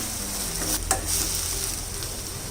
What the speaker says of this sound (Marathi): कांदा थोडा परतून झालेला आहे. यात 1 मोठा टोमॅटो बारीक चिरून घातलेला आहे.